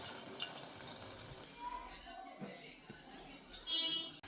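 Carrots and legumes are stirred in oil in a pan, giving a soft, close sizzle with spoon scrapes and clinks against the pan; brief bits of talk come through.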